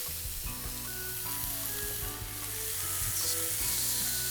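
Vegetables sizzling in about a teaspoon of oil in a pan for roast tofu and veg meal prep, a dense continuous crackling sizzle with faint stirring, close and steady, growing slightly louder toward the end.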